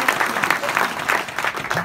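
Steady applause from a small audience at a Christmas carol performance, clapping densely and continuously for a couple of seconds at moderate loudness.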